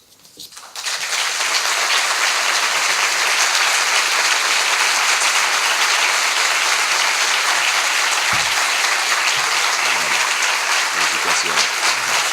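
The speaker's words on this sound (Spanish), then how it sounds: "Aplausos sostenidos para nuestro disertante, Bernardo Klicksberg" A lecture audience gives a speaker on ethics sustained applause, rising quickly from a quiet start into dense, loud, continuous clapping that holds for over ten seconds, with faint voices underneath.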